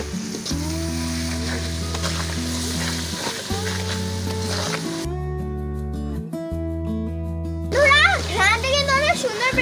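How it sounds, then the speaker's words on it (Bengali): Tamarind and date pickle sautéing in a pan gives a steady close sizzle with occasional stirring, under background music; near the end a voice sounds loudly over it. "এখন আমরা কষাবো।"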